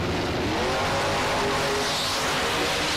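Mustang drag race car in the right-hand lane at a bracket race, a loud, dense engine roar filling the whole stretch with broadband noise and no clear break.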